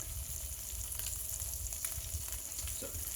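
Chorizo sausage fries in a pan with a dense, steady crackling sizzle throughout, fairly quiet and with no other sounds.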